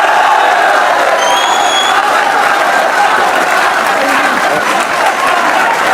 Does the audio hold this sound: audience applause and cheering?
yes